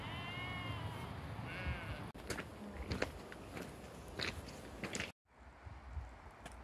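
Sheep wait in a line on a flooded trail in the Lake District, with several bleats near and far over a busy background of rustling and movement, ending in an abrupt cut to quieter ambience.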